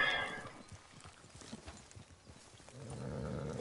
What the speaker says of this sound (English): mira qué caballo tiene